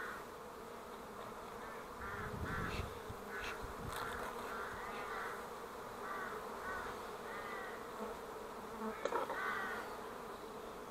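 A dense, steady drone of many honeybees buzzing close by at an open hive in spring, with a few louder individual bees passing near.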